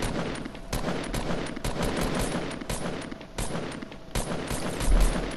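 Gunfire in the Fortnite video game on PS4, a loud, dense stream of rapid shots with sharp bursts spread across the whole stretch.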